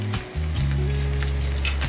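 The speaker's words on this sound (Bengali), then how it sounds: "এবার ভালো করে নাড়তে হবে, পেঁয়াজ আর আলু যেন ভালো করে মাখা মাখা হয়ে যায়" Onion and potato fry in a pan for an aloo paratha filling while being stirred, producing a loud, continuous sizzle with a low steady hum beneath it.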